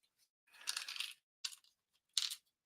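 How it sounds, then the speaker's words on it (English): Tums antacid tablets being chewed close up: three separate quiet crunching bursts, the first longer, spaced by silence, with no talk. "I'm reaching for the Tums. I'm eating a Tums."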